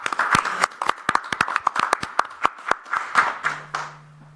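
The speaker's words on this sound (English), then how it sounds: "Round of applause for that?" A round of applause breaks out at a Gloucester County Board of Supervisors meeting, many hands clapping steadily and fairly close for about four seconds before tapering off.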